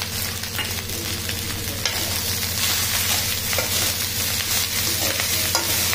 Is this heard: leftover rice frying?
yes